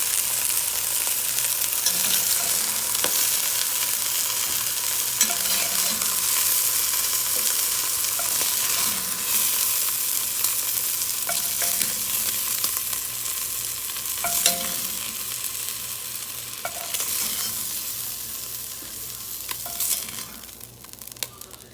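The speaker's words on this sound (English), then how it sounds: "now we fried them in our pot. 8 to 10 minutes, brown them a little bit." Wild doves frying and sizzling in a pot, a steady crackling hiss that runs loud and continuous throughout with occasional stirring scrapes, no talking.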